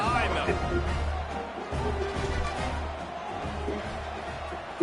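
Football stadium crowd roaring before kickoff at a Southern Miss versus Jacksonville State game, a steady loud wash of cheering voices that runs throughout under a commentator's talk.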